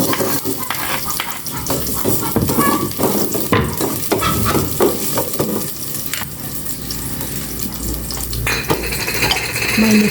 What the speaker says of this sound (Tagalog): Gisa ko na po itong bawang. Sibuyas.